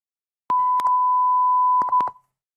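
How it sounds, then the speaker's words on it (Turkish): A single steady censor beep sounds for about a second and a half, a flat high tone with brief clicks where it starts and stops. "bip sesi yani sansür sesini ekledik"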